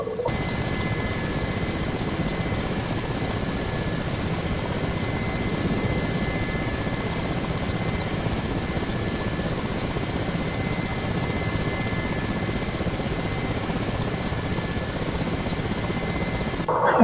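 Ka-50 Black Shark attack helicopter in the DCS combat flight simulator, its rotor and turbine drone steady and loud from start to finish, with no talk over it.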